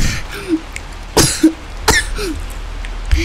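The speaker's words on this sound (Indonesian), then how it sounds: "Sampai gua batuk saking kagetnya" Coughs in the video game Little Nightmares II, several short, sharp bursts spread across a few seconds, close and fairly loud, with faint throat-clearing and breathy vocal sounds between them.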